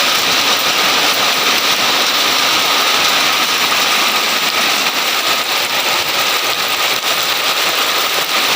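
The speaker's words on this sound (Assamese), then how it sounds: "পুৰা দবা পিটা বৰষুণ দিছে" Heavy rain with hail pounds down in a dense, unbroken roar that stays steady throughout, with no voices.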